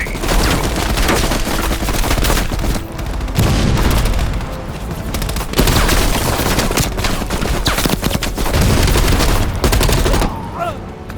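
Rapid machine gun fire in the Black Ops Cold War campaign's final mission, loud sustained bursts with booming explosions layered throughout and a brief lull near the end.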